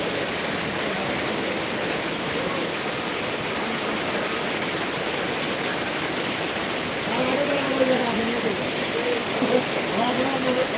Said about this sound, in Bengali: আজকে প্রচণ্ড বৃষ্টি হয়েছে আমাদের এখানে